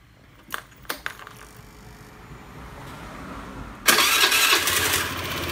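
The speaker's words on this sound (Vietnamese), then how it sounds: "bây giờ là mình sẽ đề lại một lần nữa là một phát là nổ luôn." A Honda fuel-injected motorcycle engine cranks with a few brief clicks, then catches at once and settles into a steady, loud idle.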